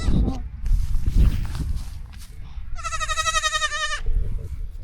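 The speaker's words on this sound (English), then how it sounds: "so that the baby goats are in a good spot" A goat lets out one long, wavering bleat close by, after shuffling footsteps and rustling on the ground, in a pen with baby goats.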